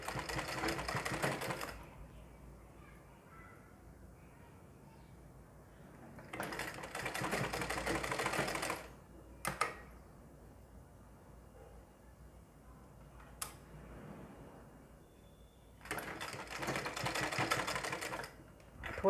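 A sewing machine stitching the sleeve of a ladies suit, running in several loud bursts of rapid mechanical whirring separated by quieter pauses, with short clicks between runs.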